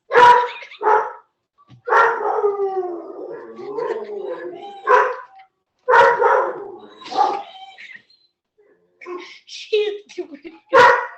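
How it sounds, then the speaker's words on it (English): Several dogs bark and yip nearby in short, irregular bursts with brief pauses, some barks drawn out toward a whimper or howl. Other voices are faintly mixed in. "let's listen to dogs bark for a while"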